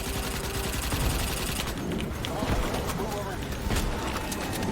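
Rapid bursts of turret gunfire rattle continuously in Starship Troopers: Extermination, dense and loud, with a voice speaking Thai over the shooting.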